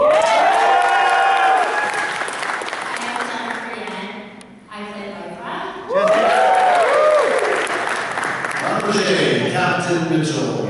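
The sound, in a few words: convention audience cheering and applauding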